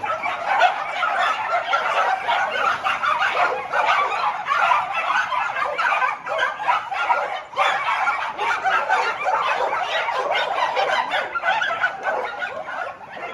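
Several dogs bark and yip at each other across a wall in a continuous, overlapping racket, heard fairly close and loud with no talking.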